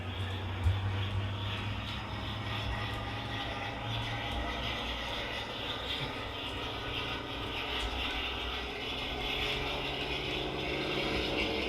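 A steady, whining motor drone with a rattling mechanical edge holds throughout, building slightly, as a model train locomotive revs past on a layout nearby.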